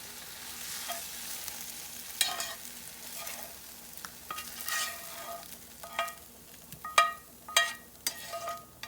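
Cooked eggs are scraped out of a skillet in a series of irregular scrapes and taps of a utensil against the pan over a faint, low sizzle, growing louder and quicker toward the end.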